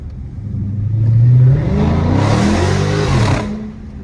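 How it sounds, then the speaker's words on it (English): SRT car engine revving hard and accelerating on a street in traffic, a loud close roar that swells and climbs in pitch, holds briefly, then drops back to a lower rumble. "Why you try to hit the gas like that?"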